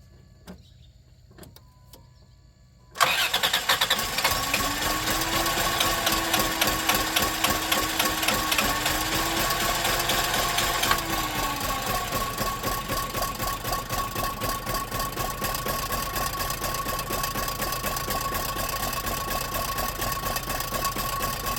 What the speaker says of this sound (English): I got it to run. It's running on like 3 cylinders